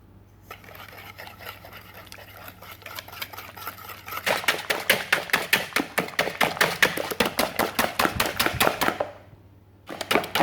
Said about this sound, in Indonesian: Oke, ini kita aduk ya.